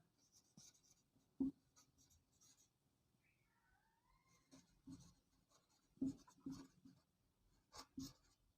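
A pen writes down a math answer on paper in soft, close scratchy strokes with a few firmer taps, quiet and without talk.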